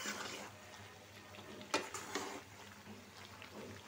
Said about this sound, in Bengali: তরকারিটা আমার কষানো হয়ে গেছে, টমেটো দিয়ে দিই।